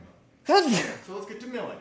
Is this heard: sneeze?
yes